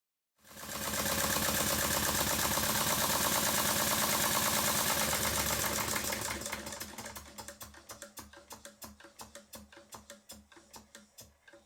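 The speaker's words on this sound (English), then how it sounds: "Once I'd reassembled all the components, I thought it would be a good idea to give the engine a test run." A Stuart beam engine, freshly reassembled and still stiff, runs on a test: a dense, loud mechanical chatter that settles after about six seconds into a slower, evenly spaced clacking rhythm, steady and close with no talk.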